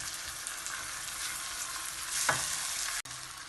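Spices sizzling in oil in a pan for a lamb tajine with peas, fava beans and artichoke, a steady hiss with a brief stirring scrape near the end, fairly quiet with no talk.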